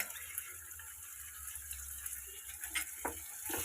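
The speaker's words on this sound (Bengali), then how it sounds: "এবার আমি ভালো করে মিক্স করে নিচ্ছি" Ginger paste being stirred into fried onions in a pan for a Bengali fish-head moong dal, giving a soft, steady, quiet scraping and sizzling with light clicks toward the end.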